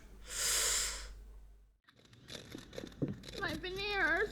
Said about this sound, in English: Oh my goodness, the crunch.